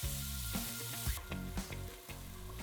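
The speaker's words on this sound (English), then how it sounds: "heat up some oil, then add the bacon" Chopped smoked bacon frying in hot oil in a sauté pan on a medium stove, a close continuous sizzle with crackles and pops, stirred now and then.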